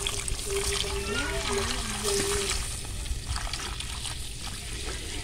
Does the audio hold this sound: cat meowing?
no